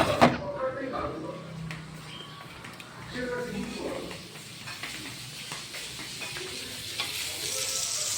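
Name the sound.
food frying in a wok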